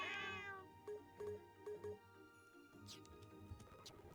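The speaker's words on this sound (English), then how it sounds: "Here, have some cats to calm you down." Several short cat meows from a video game, roughly four evenly spaced calls, quiet and layered under a player's voice and a soft musical game background.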